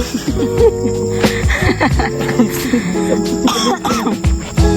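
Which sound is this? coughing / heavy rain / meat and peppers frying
coughing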